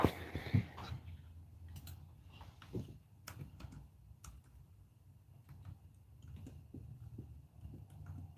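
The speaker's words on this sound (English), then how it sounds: "I'm typing again." Computer keyboard typing in a quiet room, scattered soft clicks and taps at an irregular pace, close and fairly faint, with no voices.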